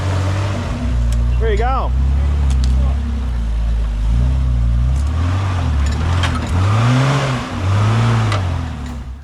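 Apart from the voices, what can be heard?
Nissan GQ Patrol engine revving off-road on steep ground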